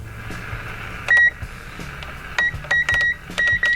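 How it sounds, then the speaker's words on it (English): A Realistic TRC-481 CB radio, grimy and under repair, gives a series of short electronic beeps at power-on, several quick tones in an irregular pattern over a low background hum. "forgot it beeped"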